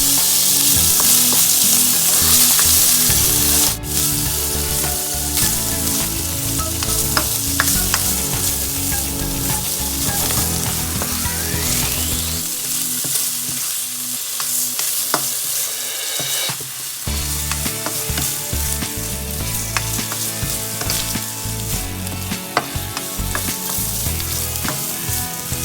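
Ham fries in a pan for Filipino beef pares, giving a continuous loud sizzle with scraping and stirring sounds throughout and no talk.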